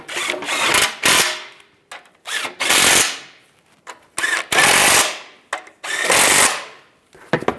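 An impact or power tool tightens a bolt on the passenger-side differential bracket of a 2007-2013 Chevrolet Silverado, firing in several loud, sharp bursts separated by short pauses.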